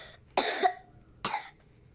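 Two short, sharp coughs from a boy, the first longer and the second following about a second later, close and alone.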